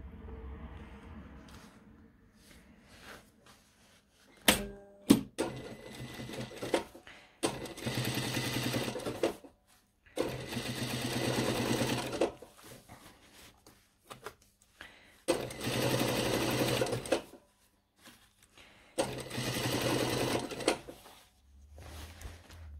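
A sewing machine topstitches a seam on a pair of trousers, running in four separate bursts of rapid stitching with short quiet pauses between, close and unaccompanied by talk.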